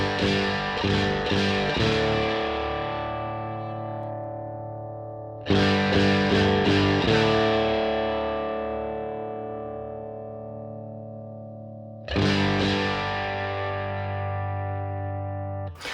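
Distorted electric guitar through a Fat Boy Zilla V30 cabinet, miked with a 57 and a condenser, three loud chord phrases, each a quick burst of strikes left ringing and slowly fading with thick sustain.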